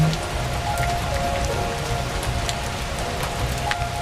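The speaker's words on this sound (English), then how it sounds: "The peaceful rhythm of the rain, the soft rustle of autumn leaves." Steady rain patters on a surface alongside a soft rustle of autumn leaves, a continuous even wash of drops with no pauses, moderately loud and heard alone.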